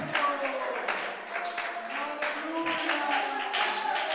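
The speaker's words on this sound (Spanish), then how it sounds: "¿Cuántos le dan aplausos al Rey de Gloria?" A church congregation at a Pentecostal worship service claps in a steady, even rhythm, with voices heard through the beat.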